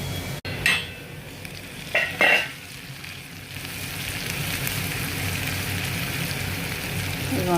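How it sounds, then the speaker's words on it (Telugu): Onion and bitter gourd pieces fry steadily in hot oil, a continuous close sizzle with a few scraping stirs early on, then settling into an even crackling hiss. "ఇదిగోండి, మంచిగా వేగుతుంది"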